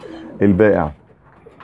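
Domestic pigeons, French meat breed, cooing inside a wire isolation cage: a single loud, close throaty coo rolls out over about half a second between quieter stretches, with a brief spoken word just before it.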